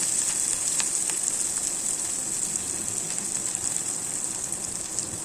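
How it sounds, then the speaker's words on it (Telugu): Small-cut onions frying in hot oil give a steady, close sizzle with fine crackling that runs unbroken throughout, with no voices. "ఉల్లిగడ్డను చిన్న ముక్కలుగా కట్ చేసి పెట్టుకున్నాను వాటిని ఆయిల్లో వేసి గోల్డెన్ కలర్ వచ్చే వరకు వేయించుకోవాలి"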